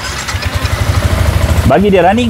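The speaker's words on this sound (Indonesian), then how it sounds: "Sekarang abang akan start motor ni." A Yamaha motorcycle engine starts and then idles with a steady, close, mid-pitched rumble, while someone talks over the first part.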